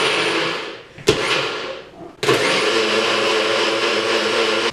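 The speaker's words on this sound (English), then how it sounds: "Props to this blender." A blender making McDonald's smoothies whirs loudly, stops with a click, briefly restarts, then cuts off and starts up again to run steadily at full roar.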